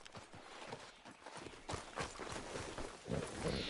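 Horse hooves clip-clop at a steady walking rhythm in the Red Dead Redemption 2 video game, moderately close and fairly quiet, with a faint snort near the end.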